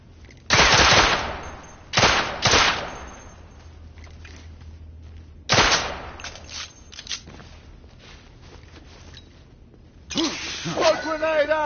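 Gunfire in The Order: 1886: loud, close bursts of automatic fire in several separate volleys with quieter gaps between them, and voices shouting in between.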